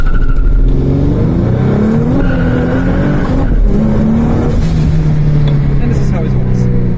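A BMW E92 with the N54 turbo engine accelerating at full throttle on boost, a loud rising engine note that climbs and shifts through gears, with a person talking over it.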